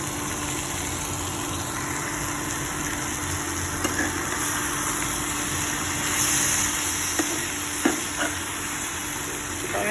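Ginger-garlic paste and Kashmiri chili powder are stirred into food in a hot pan, giving a steady sizzle. A few soft scrapes and clicks of the spoon come through against a constant background hum.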